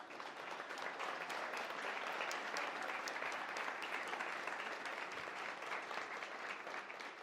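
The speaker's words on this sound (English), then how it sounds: "A round of applause for these hits." Sustained applause from an audience at a tech ecosystem event, a steady dense wash of many hands clapping at fairly even loudness throughout, with no voices standing out.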